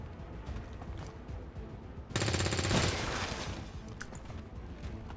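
Burst of automatic gunfire in XCOM 2: War of the Chosen, a loud rapid volley of about a second standing out over quieter game background, followed by a faint later shot.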